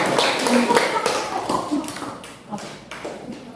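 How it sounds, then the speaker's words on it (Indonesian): A classroom group claps hands in a quick run of sharp, uneven claps that fades over a few seconds, with voices mixed in. "nanti tepuk tangan dulu"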